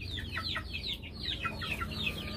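Chickens cluck in quick, repeated clucks and chatter, fairly close and moderately quiet, with no talking over them.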